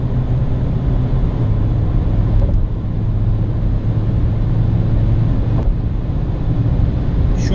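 Engine drone and road rumble from a Volkswagen Polo 1.6 TDI with DSG gearbox, carrying two people and a full tank as it accelerates up a gentle slope, heard from inside as a loud, steady hum with faint clicks.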